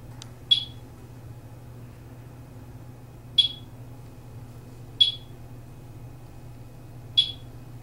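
Four sharp, isolated electronic clicks or chirps from a radiation detector at irregular intervals over a low steady hum, with no talking.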